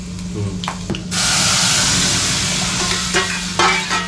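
Chilli, a pinch of asafoetida and turmeric hit hot oil in a loud, sudden burst of sizzling that holds steady, with a few clinks of a spoon before and after.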